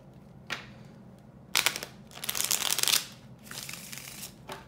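Tarot cards are shuffled for a Celtic cross spread in a quiet room, with a faint tap, then bursts of riffling and papery flutter that come loudest in the middle and end with a softer final shuffle.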